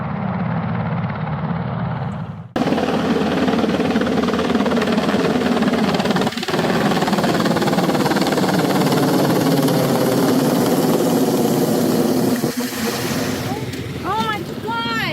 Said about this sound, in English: This helicopter just flew in and knocked over everything.